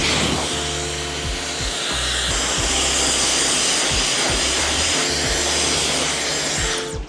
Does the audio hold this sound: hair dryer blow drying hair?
yes